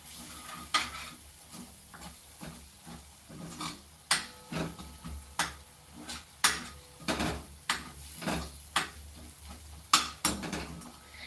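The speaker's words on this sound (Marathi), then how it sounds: "बेसन पीठ आपल्याला अगदी छान तेल सुटेपर्यंत आता भाजून घ्यायचं आहे" Besan masala roasting in oil over a low flame for a farsan vegetable curry, stirred with steady rhythmic scraping strokes against the pan about every half second, with a soft sizzle underneath and no talking.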